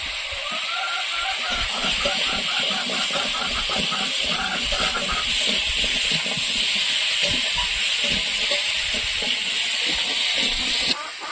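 Potatoes hit a hot pan for a Bengali shoul fish curry, a steady loud sizzle and hiss of frying that runs throughout with a continuous bright spitting texture.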